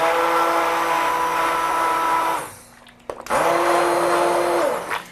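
A blender purees zucchini soup, whirring loudly, stopping briefly in the middle, then starting up again and running steadily before winding down.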